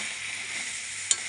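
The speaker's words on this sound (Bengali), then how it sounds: "নারকেল বাটাটা দিয়ে আর একটু কষিয়ে নিয়ে" Ground coconut paste sautéing in a curry of raw jackfruit, a steady close sizzle with a single sharp scrape of the spoon near the end.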